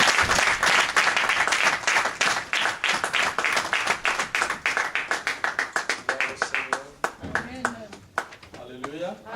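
A church congregation claps and applauds together in a steady burst of hands, loud and close, thinning into scattered claps near the end as a voice begins to rise over them.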